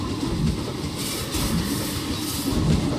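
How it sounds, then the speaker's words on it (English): A roller coaster train runs along its track in the theme park game Planet Coaster, giving a steady close rumble with rhythmic clickety-clack wheel beats and occasional metallic squeal. "In fact, there's a third train coming as well."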